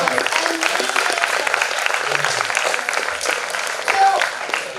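A lecture audience at an engineering school gives a sustained round of applause, a thick wash of clapping from many hands with faint voices mixed in.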